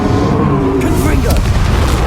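A Confringo fire-spell blast in the video game Hogwarts Legacy, a loud, dense roaring burst with a whooshing sweep that continues through the moment amid battle noise.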